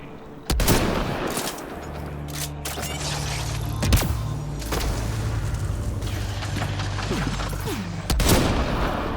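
Gunfire in the Mass Effect Andromeda video game: rapid bursts of shots and booms over a constant hum of combat, with a sharp loud crack near the start, middle and end.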